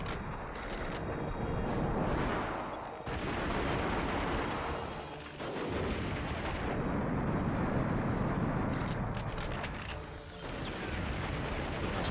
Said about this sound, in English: there are live explosives about to detonate.